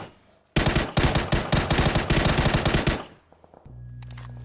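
Rapid bursts of automatic video game gunfire fill about two and a half seconds, loud and dense, then fade out into a steady low electronic hum with a few faint pops.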